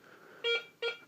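A metal detector gives two short electronic beeps during an air test, each tone about a third of a second, close and clear over a faint steady hum.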